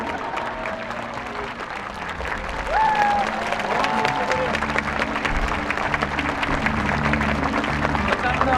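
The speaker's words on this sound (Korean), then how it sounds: "시장님께 여러분, 그리고 공무원분들께 박수 부탁드리겠습니다" Audience at a lecture event applauding the mayor and public officials, continuous dense clapping that grows louder midway and carries on steadily, with faint voices underneath.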